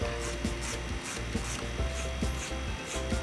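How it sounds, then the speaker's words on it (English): A nail file rasping off the excess edge of a Jamberry nail wrap, quick close strokes repeating in a steady rubbing rhythm, quiet and alone. "Take my file and file down just to break off that excess wrap."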